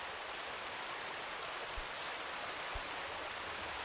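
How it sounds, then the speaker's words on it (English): A waterfall in a climbing video game pours as a steady, even hiss of rushing water with a couple of faint low thuds, continuous and moderately quiet, with no voices. "Because there's a waterfall for some reason."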